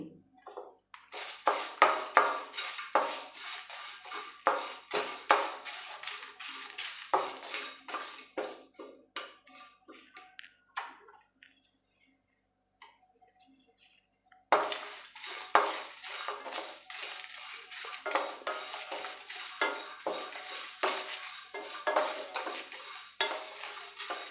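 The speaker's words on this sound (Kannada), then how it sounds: "ಈ ಪದಾರ್ಥಗಳೆಲ್ಲ ಮುಕ್ಕಾಲು ಭಾಗದಷ್ಟು ಡ್ರೈ ರೋಸ್ಟ್ ಆಗಿದೆ ಈಗ ನಾನು ಒಂದೆರಡು ರಂಬೆಯಷ್ಟು ಕರಿಬೇವು ಸೊಪ್ಪು ಹಾಕ್ತಾಯಿದ್ದೀನಿ" Spices and curry leaves dry roasting in a pan, with dense, busy scraping and stirring of a utensil against the metal and a faint sizzle, a short quieter pause midway, then vigorous stirring again.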